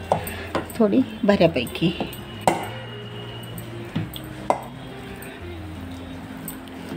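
Boiled sweet potatoes being smashed with a small heavy object, giving a run of close, dull knocks and clinks against a dish. A few sharper thuds follow, with a brief spoken remark in between.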